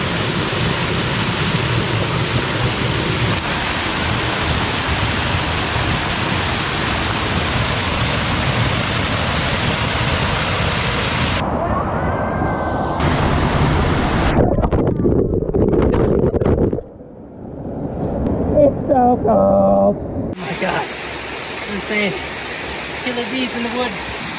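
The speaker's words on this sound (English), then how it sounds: "Made it to the top of the waterfall. On top of the waterfall is another waterfall." A waterfall near Nasu, Japan gives a loud, constant, close roar of rushing water that fills most of the clip before abruptly cutting out near the end, giving way to quieter sounds.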